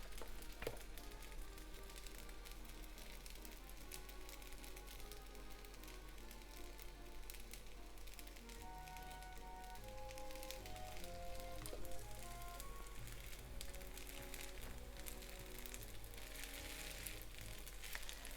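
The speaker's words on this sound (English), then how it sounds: "little more vegetable oil to pan fry the bottom" Steady sizzling of shrimp yakisoba noodles pan frying in vegetable oil, a soft crackling hiss continuing throughout with a low hum beneath and no talking.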